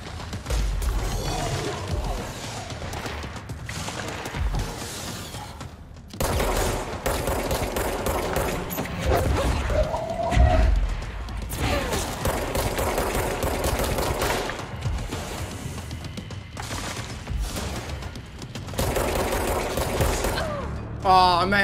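Gunfire from a boss's minions in the Control video game, rapid machine-gun bursts and mechanical clatter returning in waves with brief lulls, voices talking over it.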